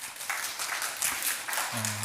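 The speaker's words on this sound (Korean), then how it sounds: "우리 마지막으로 하나님께 감사의 박수 한번 올려드릴까요?" A church congregation applauds together at the close of a Sunday worship service at a Baptist church: a steady, diffuse wash of clapping, fairly faint and distant, with a low hum entering near the end.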